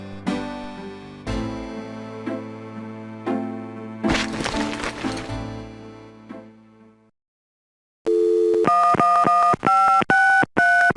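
A phone number gets dialed in the Gabriel Knight game: a series of distinct touch-tone beeps, followed by several rapid dialing tones at the end after a short silence, loud and clear.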